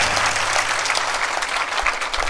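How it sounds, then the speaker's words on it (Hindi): An audience at a religious discourse on Sant Kabir claps steadily and loudly, a dense sustained applause with no pauses. "आप ताली बजाया है।"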